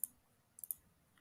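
Mouse clicks on a web form's submit button while using a BoloForms dashboard: a sharp single click at the start, then a quick cluster of two or three close clicks, crisp and near against a quiet background.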